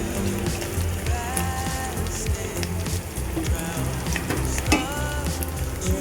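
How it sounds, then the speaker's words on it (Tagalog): Sizzling ground pork frying in a pan as coconut milk is poured in for gising-gising, a steady close crackle and hiss with stirring scrapes throughout. "lagay na natin yung ating gata"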